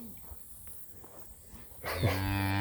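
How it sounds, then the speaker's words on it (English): Steers in a cattle herd, one letting out a loud, drawn-out moo near the end after quieter shuffling and faint background sounds. "They're good sized steers."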